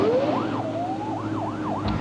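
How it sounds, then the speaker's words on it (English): A fire truck's siren wails in rising and falling sweeps during a ride carrying four kids, loud and close, repeating in a steady up-and-down cycle with engine rumble beneath. "We're taking them for a ride in our fire truck."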